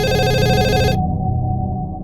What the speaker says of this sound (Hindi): और ये फोन कब से बज रहा है?